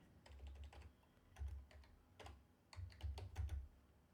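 Bursts of keystrokes on a computer keyboard as a command is typed into a Dell OS10 network switch console, quick clustered clicks in several runs with short pauses, close and fairly quiet.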